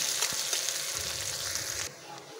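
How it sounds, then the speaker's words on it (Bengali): Green chilies and onion sizzle in hot oil in a home kitchen pan, a steady soft hiss with a faint stir, dropping quieter just before the end. "এবার দিয়ে দেব কাঁচা লঙ্কা, পেঁয়াজ। এটা একটু ভাজা হয়ে গেলে দিয়ে দেব টমেটো।"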